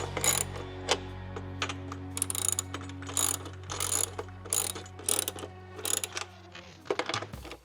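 A ratchet clicks rapidly in repeated bursts while tightening fairing clamp bolts on a Harley Softail motorcycle, close and fairly loud over a low steady hum.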